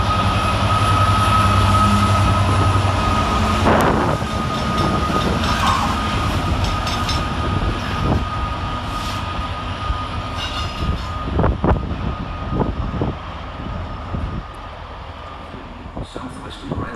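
A freight train hauled by class 66 locomotives 66743 and 66762 rumbles through Basingstoke station, a loud broad roar of engines and wagons that gradually fades, with clanks and rail clicks toward the end.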